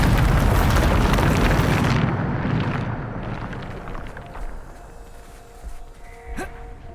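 A Bombarda spell explodes in Hogwarts Legacy, a loud, close, booming blast that rolls off into a long fading rumble, followed by faint scattered thuds.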